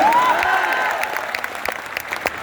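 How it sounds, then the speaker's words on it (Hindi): A rally crowd at a Jan Suraaj gathering in Bihar breaks into clapping, loud at first and then thinning into scattered claps, with a voice briefly heard over it. "अब बजाइए ताली"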